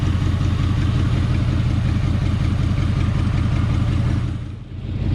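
A 1988 Ford Mustang T-Top's engine runs steadily under its own power, a loud, close, even rumbling idle with a rhythmic low pulse that dips briefly near the end, no talk.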